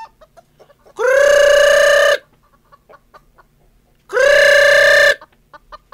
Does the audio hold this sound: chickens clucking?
yes